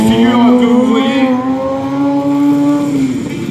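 A stunt motorcycle engine holds a loud, steady whining drone with slight pitch swells as the rider spins a circle wheelie at a stunt show in Orvault in 2018, close and continuous.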